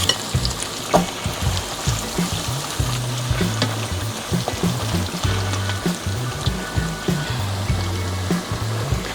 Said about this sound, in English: we're gonna deep fry the plantains that are well seasoned